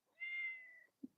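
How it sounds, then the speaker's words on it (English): A cat gives a single clear, drawn-out meow, close and alone in a quiet room, followed by a short low thump. "you can say meow all you want"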